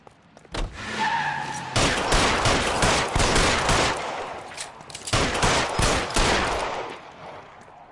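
Gunfire in the video game L.A. Noire erupts as rapid, loud bursts of shots with tire skids and car noise over nearly eight seconds, dense and close with brief lulls.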